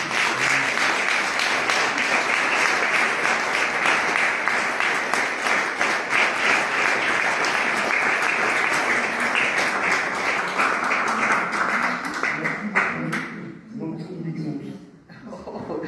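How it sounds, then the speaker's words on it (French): A roomful of people applauds Jean Blanc after his talk on the Trencavel family, sustained clapping that thins and fades near the end as a voice begins to speak. "Je vous demande d'applaudir Jean"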